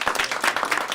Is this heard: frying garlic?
no